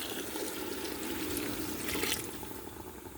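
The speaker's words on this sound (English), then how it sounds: "I will be adding enough water to cover it" Water poured into a pot over chicken and rice for soup, a steady soft trickling splash that swells briefly near the end, faint and alone.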